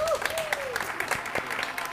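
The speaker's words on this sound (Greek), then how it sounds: "χειροκρότημα!" Brief applause at a Greek café-style talk show celebrating its 50th broadcast, a dense patter of clapping mixed with a few voices and a rising whistle-like tone at the start.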